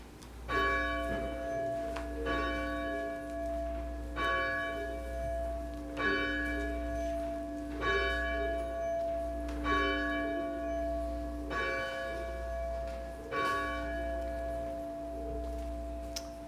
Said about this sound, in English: let us prepare to worship our wondrous God as our bell calls us to worship.